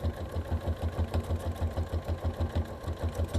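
A sewing machine runs steadily during free motion quilting for bobbin work, its needle thumping in a fast, even rhythm with a mechanical hum, close and moderately loud.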